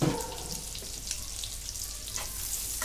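Finely chopped onion fries in hot oil with cumin in a pan, giving a steady close sizzle with occasional sharper crackles and no voices.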